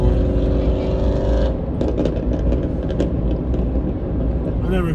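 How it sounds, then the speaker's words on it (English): A car fitted with an extremely loud aftermarket exhaust on a night street in Sebring, Florida, giving a heavy, continuous engine drone and rumble that stays loud throughout, with a brief rise in rasp midway. "just put an exhaust that's like so loud"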